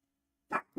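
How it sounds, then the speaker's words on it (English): A neighbour's dogs bark twice in quick succession, short distinct barks at moderate distance after a quiet stretch. "I can't hear myself think with these dogs"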